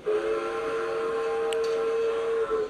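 A model train whistle sounds a long, steady, thin tone over a soft hiss, holding almost unchanged for a few seconds.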